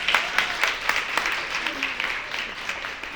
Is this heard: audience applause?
yes